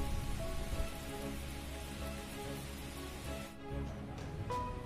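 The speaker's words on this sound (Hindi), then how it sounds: "बारिश शुरू हो गया है, पानी गिरना शुरू दिख रहा होगा" Rain falls steadily in bad weather, a continuous patter of drops on a nearby surface that briefly thins toward the end before coming back; no one speaks.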